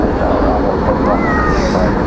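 An MD-11 airliner arriving at DFW airport at night makes a loud, steady jet roar with a faint rising whine, with a person speaking over it.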